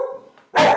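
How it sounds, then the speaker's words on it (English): A dog barks loudly and close by in one short burst, breaking in near the end after a stretch of quieter low sound. "Sorry, that's our dog."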